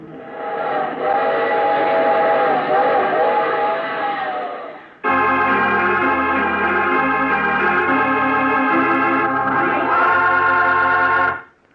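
A loud steam train whistle wails for several seconds, then a second longer multi-tone blast sounds over the low rumble of the moving train, in a 1948 radio drama.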